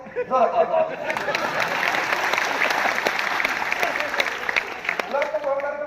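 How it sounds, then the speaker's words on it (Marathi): A lecture audience at a talk on the education system breaks into loud, dense applause. The clapping lasts several seconds, with someone speaking briefly just before and as it fades. "टाळ्या बरेच वाजवायचं"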